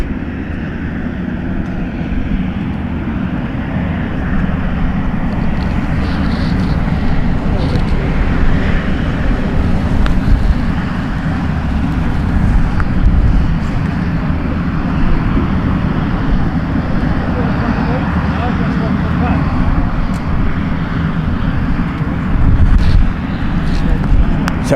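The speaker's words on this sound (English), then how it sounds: "we'll see it taxiing along. Here we go, look at that. Finnish Air Force PC-12." A Finnish Air Force PC-12 taxiing at RAF Waddington during the Cobra Warrior exercise, a loud, steady aircraft engine roar that holds without break throughout.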